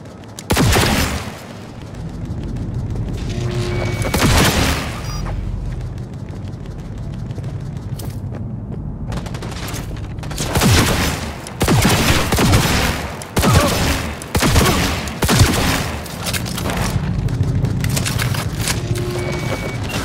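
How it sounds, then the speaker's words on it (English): Sustained gunfire in the video game Cyberpunk 2077 on PC, loud bursts and volleys of shots repeating across the whole stretch with brief lulls, layered over rumbling game ambience and impacts. "I'm taking fire!"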